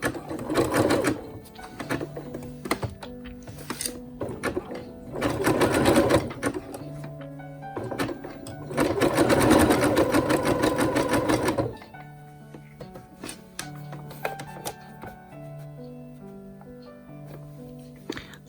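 A sewing machine runs zigzag stitching along a black skirt seam in bursts of fast rhythmic clatter, pausing between runs, close and clear with no talk.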